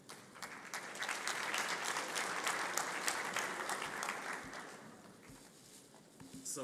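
An audience at a conference closing event gives sustained, even applause that stays steady for several seconds and then tapers slightly, heard at moderate distance with no talking over it.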